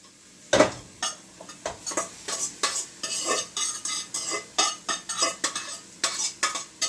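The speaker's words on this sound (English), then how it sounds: "we're going to put it with the seasoning and stir fry it a little." Pumpkin stir fried with seasoning in a pot for Jamaican coconut pumpkin rice: a utensil scrapes and clacks against the pot in a steady rhythm of repeated strokes over a soft sizzle, close and alone.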